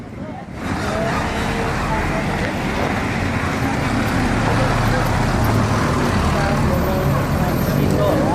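ANS Royal Eksekutif coach bus pulling away from the Pondok Pinang Lebak Bulus terminal, a steady loud engine rumble with road and traffic noise, continuous from start to end, with voices talking over it.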